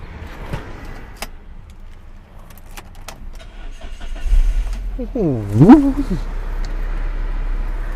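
A 2002 BMW 318i E46 sedan starting: faint clicks and rattles, then the starter cranks and the engine catches about five seconds in, settling into a steady low idle close by, with someone talking over it.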